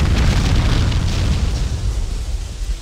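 A heavy explosion rumbles through Max Payne game audio, a loud sustained roar of deep booming noise and crackle that slowly fades over about three seconds.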